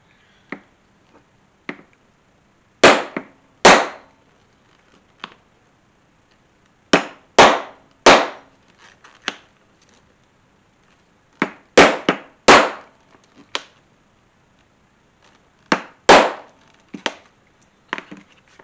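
A 1/8 inch hole punch hammered into a guitar strap, sharp, loud, close strikes landing in tight clusters of two or three blows with quiet gaps between.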